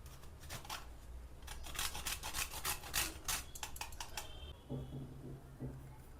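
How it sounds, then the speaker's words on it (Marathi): Whole nutmeg rasped on a grater for sesame laddoos gives a run of quick, close scratchy strokes in bursts, then fades into quieter kitchen handling near the end. "थोडं हे जायफळ किसून टाकणार आहोत"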